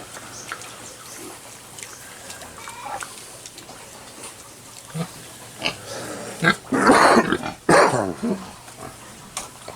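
Pigs in a crowded farm pen grunt and squeal in scattered bursts, rising to a louder cluster of squeals near the end, with faint background noise throughout.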